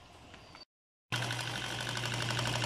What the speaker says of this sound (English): pump that they use to pump the poison